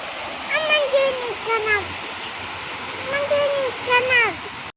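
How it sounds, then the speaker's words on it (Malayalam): A roadside waterfall on a trip toward Ooty gives a steady broadband rush of falling water throughout, with voices calling and chatting over it. "വെള്ളച്ചാട്ടം കണ്ടപ്പോൾ വെള്ളം കാണുന്നതിനോട് ഞങ്ങൾ പറഞ്ഞിട്ട് ഇവിടെ വണ്ടി നിർത്തിയതാട്ടോ ഗൈസ്"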